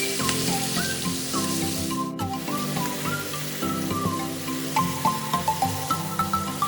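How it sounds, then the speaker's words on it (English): Pork fries in a hot pan while being stirred for Lao Gan Ma pork fried rice. A steady, close sizzle crackles throughout, with pitched background tones and a few louder stirring knocks near the end. "Then break up the pork and fry the other side. Continue to stir for a few more minutes."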